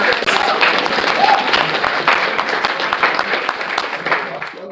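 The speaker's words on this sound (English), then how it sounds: "Give them a hand of applause." Loud, sustained applause from a large audience at a convention opening ceremony, with sharp individual claps and crowd murmur mixed in.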